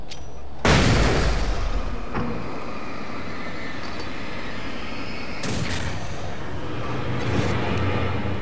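Two loud, sharp flashbang blasts go off in the Alan Wake video game, each with a sudden broadband burst and a rumbling tail, separated by several seconds of dense background noise.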